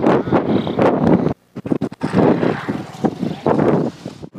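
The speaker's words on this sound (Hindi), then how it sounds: "बहुत तेज हवा, बहुत ज़्यादा धूल चल रहा है" Strong wind blows dust beside a riverbank food cart, gusting loudly against the microphone in heavy rushing bursts with a brief lull in between.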